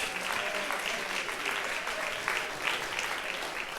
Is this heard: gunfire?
no